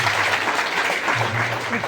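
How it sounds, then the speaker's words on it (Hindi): A crowd applauding to welcome a candidate at an NDA workers' rally, broad continuous clapping with a voice speaking over it. "इसलिए इनको दिल की गहराई से आप लोग ताली बजाकर स्वागत करेंगे"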